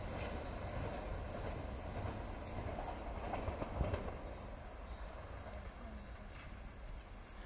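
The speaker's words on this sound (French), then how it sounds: "TGV duplex" A TGV Duplex high-speed train bound for Annecy passing by: a continuous loud rushing roar with faint rail clatter, swelling slightly near the middle and then holding steady.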